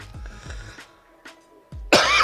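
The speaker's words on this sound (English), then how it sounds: "I apologize for this cough that I just had there" A few short, sharp coughs, close and fairly loud, followed by a quieter throat sound and a burst of noise at the end.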